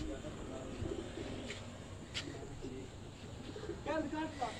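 Pigeons coo steadily on a rooftop in a continuous, moderately close chorus over a constant background hum, with a couple of brief sharp knocks along the way.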